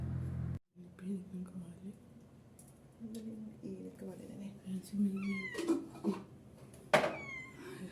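A cat meows a few times, short rising cries scattered across the clip under soft whispery speech and light kitchen clatter.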